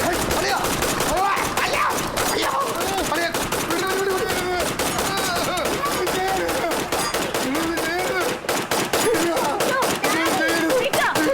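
Rapid bursts of gunfire used as a sound effect in a sitcom, a dense rattling volley that runs throughout, with voices speaking over it.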